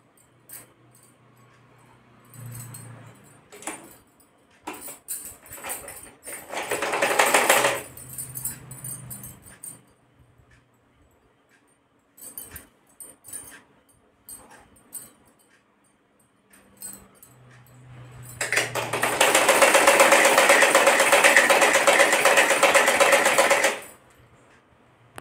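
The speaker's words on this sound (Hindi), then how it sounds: "इस तरीके से सिलाई स्टार्ट करेंगे।" A sewing machine stitches a Patiala salwar in short runs and then one long steady burst of rapid whirring, close and loud, with a dog whimpering faintly in between.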